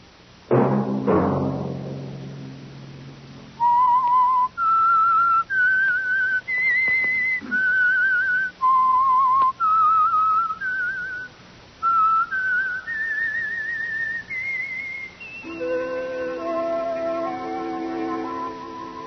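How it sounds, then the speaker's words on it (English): Signature whistled tune for the Signal Oil radio program The Whistler, a sequence of clear sustained whistled notes rising and falling in a melody, heard alone over a brief orchestral opening and ending with a held musical chord. "Let that whistle be your signal for the Signal Oil program, The Whistler"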